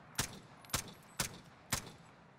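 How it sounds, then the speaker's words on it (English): Four evenly spaced suppressed shots from an AK-74U in a video game, each a sharp muffled crack with a short tail, at moderate loudness with no talk. "I'm going to do 5 headshots with the AK-74U with the suppressor"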